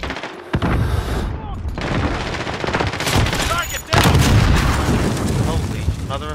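Video game gunfire, dense bursts of automatic weapon shots with booming impacts, loud and nearly continuous, briefly dropping out before resuming even harder.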